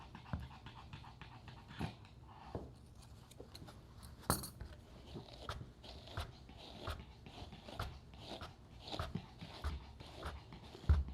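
Dog panting on a grooming table in a grooming salon, steady quick breaths close by, mixed with light clicks, taps and small metallic clinks of grooming work, moderately quiet and without talk.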